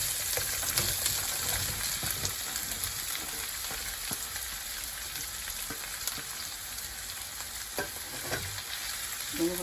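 Chopped onions frying in a hot pan for a home rajma, a steady dense sizzle broken by irregular scraping knocks of a spoon stirring them, close and continuous throughout.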